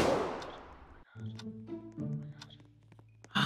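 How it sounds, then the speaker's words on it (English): Gunfire in the Roblox Squid Game video game: a few sharp shots, with one loud blast at the start and another near the end, over faint tonal game sounds. "I heard 2 gunshots, 3 gunshots."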